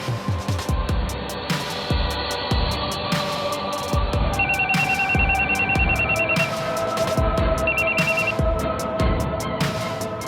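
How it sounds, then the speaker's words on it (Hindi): A telephone rings on the line after a number is dialed, repeating in regular bursts for about ten seconds over a steady hiss of background noise, with no talking. "मजलूम औरत ने दूसरी बार नंबर मिलाया तो नंबर मिल गया।"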